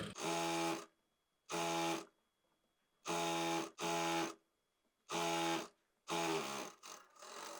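A sewing machine stitches plazo fabric panels in half-inch seams, running in short loud bursts of about half a second to a second, separated by quiet pauses.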